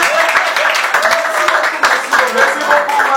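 A crowd at a company inauguration ceremony applauds loudly and close, the clapping mixed with cheers and voices calling out over it.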